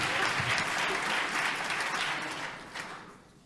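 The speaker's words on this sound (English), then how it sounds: "Let's give a round of applause for Doug and Laura." A holiday concert audience gives a round of applause, a dense wash of clapping that holds steady, then tapers off and fades out.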